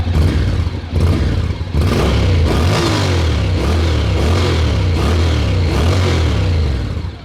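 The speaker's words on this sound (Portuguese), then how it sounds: "um motor bicilíndrico de 270 graus de defasagem, o que dá esse ronco mais grave" A Honda NC 750X twin-cylinder motorcycle engine with 270-degree crank offset revs loudly and close by, its deep, throaty rumble rising in repeated throttle blips about once a second.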